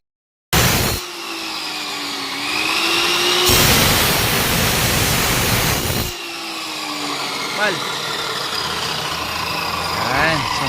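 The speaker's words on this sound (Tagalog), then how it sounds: "So gamit na gamit sa amin ang cut-off machine mga kamusta." A cut-off machine runs during ceiling and wall construction work, a steady loud motor whine that swells and dips as it cuts, continuous and close throughout.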